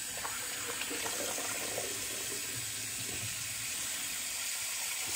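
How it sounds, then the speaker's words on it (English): A bathroom tap runs warm water into a sink before a straight razor shave, a steady, close, unbroken rush of flowing water throughout. "I'm gonna get a little warmer water in."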